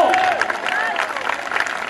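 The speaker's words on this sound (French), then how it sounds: "Des applaudissements!" A festival crowd outdoors claps and cheers, a broad rolling applause with scattered voices and babble mixed in.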